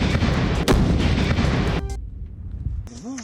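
An army bomb disposal squad detonates a live bomb near Jaisalmer. A loud, deep blast is followed by a heavy rumbling roar that fades over about two seconds, and a few faint warbling sounds come after it.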